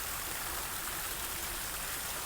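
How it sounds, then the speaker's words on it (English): Koi pond waterfall about 4 feet high, carrying 3,000 gallons per hour, pours down in a steady, full rush of water that stays even and close throughout, with no voices. "Check out our waterfall."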